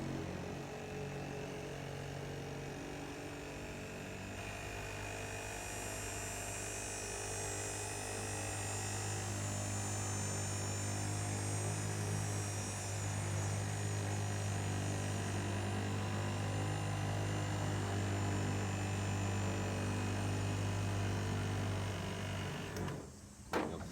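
A polishing wheel buffing the aluminum skin of an ultralight, giving a steady motor hum with a hissy whir above it that runs unbroken for about twenty-three seconds before stopping abruptly.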